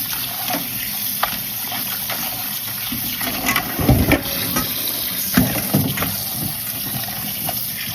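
Water pours and splashes while saltfish is rinsed for Jamaican callaloo and saltfish, a continuous running wash broken by several louder sloshes and knocks, with no talking.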